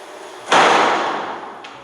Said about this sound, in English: What appears to be a heavy door opens and slams shut of its own accord.